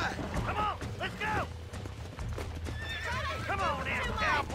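Horse hooves clip-clopping with repeated loud neighs and whinnies as a horse is broken in the Western video game Red Dead Redemption, under a voice talking throughout.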